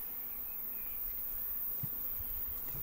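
Honey bees buzz around an opened hive in a recently split colony, a dense, continuous droning hum, close and steady throughout, with no voices.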